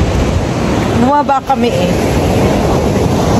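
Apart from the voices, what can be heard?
sea waves on the shore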